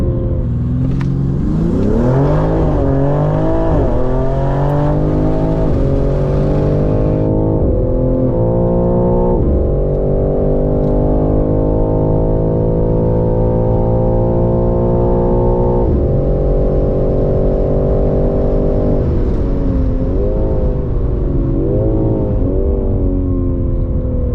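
A BMW M3 Competition launches with launch control, its engine roaring loud and close as the revs climb steeply, drop at each upshift and climb again through several gears.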